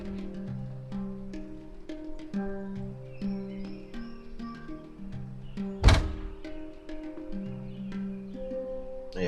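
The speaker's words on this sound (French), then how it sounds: "Et revoilà la porte qui claque." A door slams shut once, a single loud, sharp thump in the middle of steady background music.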